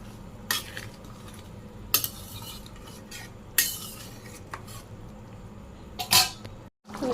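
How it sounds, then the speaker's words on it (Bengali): Boiling meat curry stirred in a pot at a Bangladeshi village kitchen: a spoon knocks and scrapes the pot in a few sparse clanks over a low bubbling background, close by, with no speech. "যে মাংসে বলক এসে গেছে, একটু নাড়া দিয়ে দিই"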